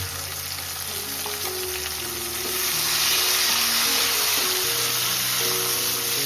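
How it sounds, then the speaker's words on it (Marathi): Tomatoes frying with golden onions in a pan for a crab sukka dish, a dense steady sizzle that swells louder midway, with occasional stirring and clinks, close and continuous without speech. "आता टॅमॅटो टाकून मस्त फ्राय करून घ्यायचं"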